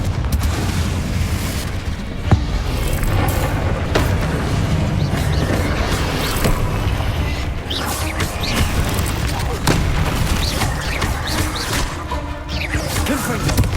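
Confringo blasting spells in Hogwarts Legacy: a steady, dense din of explosive booms and crashes runs throughout, with sharp hits near the start and again in the middle, while a voice calls out over the noise.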